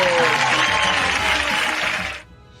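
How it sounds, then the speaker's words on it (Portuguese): A church audience applauding a guest at an Adventist event in Brazil, dense loud clapping that fades and stops abruptly near the end. "Cadê os aplausos dele, minha gente?"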